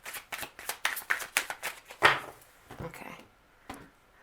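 Tarot cards are shuffled up close in a quick series of crisp riffling bursts, followed by a few softer taps and settling sounds, with no voices.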